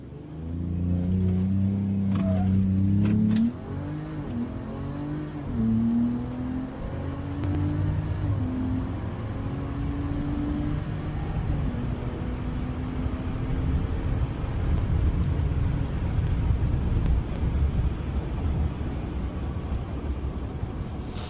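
A RAM pickup truck in sport mode accelerating at around 3,700 RPM, its engine a steady droning roar whose pitch rises and shifts across a long, continuous run.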